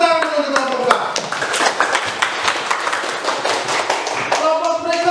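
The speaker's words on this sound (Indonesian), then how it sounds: "Tepuk tangan untuk kelompok 2." A classroom of students claps for a group after its questions, an uneven burst of close, sharp handclaps and thumps with voices talking over and around them.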